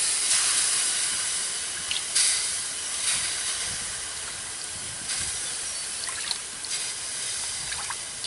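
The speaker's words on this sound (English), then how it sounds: "sprinkling some water on it." Water sprinkled onto hot, freshly welded and torch-heated steel from a lawnmower deck gives off a steady broad steaming hiss with a few brief crackling bursts, heard alone.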